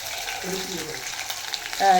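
Chillies frying for chicken manchurian, a soft continuous sizzle in hot oil with light stirring, growing louder near the end.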